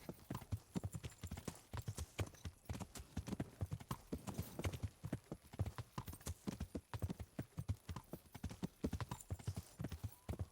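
Horse hooves clip-clop steadily and close in the medieval game Kingdom Come: Deliverance, ridden at night by a rider carrying a torch, with a brief whinny and a faint voice now and then.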